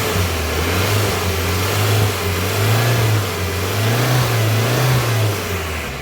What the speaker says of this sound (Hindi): ये एक्सीलेटर जैसे ही मैंने थोड़ा सा दिया है, क्योंकि वीडियो इसलिए रोक दी थी कि एक्सीलेटर का शोर आता है।